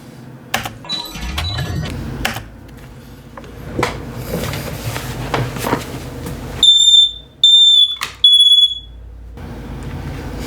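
Electronic beeping tones from a Stern Rush pinball machine's scoop shot, three loud bursts of high, steady pitch with short gaps, coming after a stretch of quieter clattering room noise.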